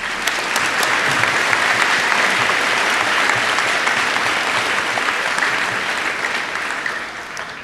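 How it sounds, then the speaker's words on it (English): Sustained applause from a large audience at a high school graduation ceremony, dense and even clapping that carries steadily and begins fading slightly near the end. "So a special round of applause for them."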